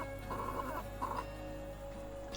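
Soft, distant hens and a rooster clucking in short murmuring bursts over a steady low hum, with no talking.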